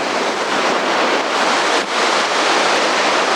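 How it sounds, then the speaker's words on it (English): A huge waterfall in Norway roars during a midnight-sun road trip. The dense, loud, unbroken rush is mixed with wind buffeting the microphone, and it stays constant throughout with no voices. "There's a huge waterfall."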